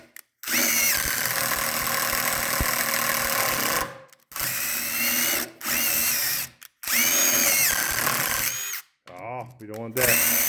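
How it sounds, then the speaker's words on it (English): An old power drill bores holes in a wooden fireplace mantel, whirring loudly in several sustained bursts separated by brief pauses, with a voice heard speaking briefly near the end. "This old drill is just not hanging on to it."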